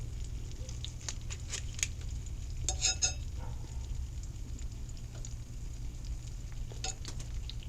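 Butter sizzling in a cast iron pan during cooking inside a greenhouse, a soft steady fry with scattered crackles and pops over a low background hum.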